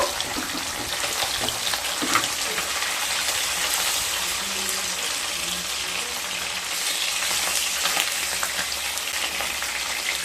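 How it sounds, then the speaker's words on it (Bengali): Pieces of rohu fish fry in hot oil with a steady, dense sizzle, loud and continuous throughout, with occasional faint stirring clinks and no talking. "মাছগুলো ভাজা হয়ে গেছে এবার মাছগুলোকে তুলে নেব"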